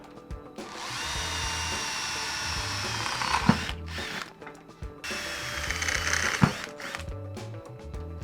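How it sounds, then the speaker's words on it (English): A power drill whirs steadily in two long runs, drilling holes in a roller skate build, each ending with a sharp knock as it stops, with a short pause between. "let the drilling begin"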